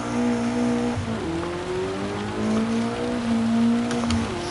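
An old-school BMW engine in Gran Turismo 7 drones steadily and loudly, its pitch climbing through gears with brief dips at each shift, close and continuous throughout.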